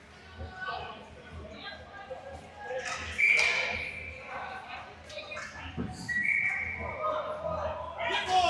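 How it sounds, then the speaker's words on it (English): A referee's whistle at a Navy football game sounds in short, shrill blasts, cutting through crowd noise and an ongoing commentator's voice. "And we'll get a whistle."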